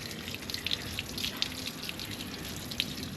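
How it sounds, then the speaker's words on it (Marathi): Water from a freshly washed air filter drains in a faint, steady trickle, with a few light drips landing irregularly on top. "पाणी कसं खालून निघतं एकदम."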